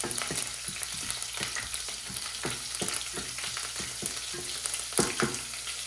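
Green chillies, five or six of them, frying in hot oil with crackling cumin seeds for sabudana khichdi, a steady close sizzle broken by sharp pops and occasional stirring clicks.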